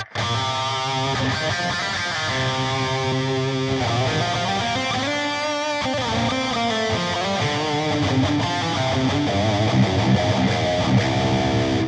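An electric guitar plays a lead solo through a BOSS GX-100 multi-effects pedal on a solo preset with overdrive, reverb and delay, a continuous run of sustained melodic notes with no talking.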